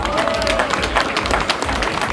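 Outdoor crowd applauding the third-place finisher of a women's elite cyclocross race in Maldegem, a steady stream of clapping and crowd noise under a loud announcer's voice, fairly near and sustained.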